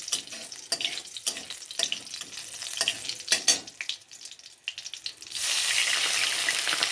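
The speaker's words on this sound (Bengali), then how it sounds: "আর এই যে মশলাটা দিলাম এটার মধ্যে আদা বাটা আছে আর কাঁচা লঙ্কা বাটা আছে এটাকে অল্প করে ভেজে নেবো" Ginger and green chilli paste masala fries in a pan, with intermittent stirring scrapes and taps over a crackle, then a louder, steady hiss of sizzling near the end.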